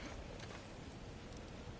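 Heavy storm rain in the video game God of War Ragnarök, a dense, steady roar of downpour that stays loud and continuous throughout, with no voices over it.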